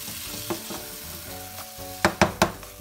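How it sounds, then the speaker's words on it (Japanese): Tomatoes stir-frying over high heat for Chinese tomato and egg, a steady close sizzle with a few soft stirring scrapes, then three sharp clattering knocks of the utensil near the end. "強火でただトマトをちょっとベチャッとなる感じまで炒めていきます。"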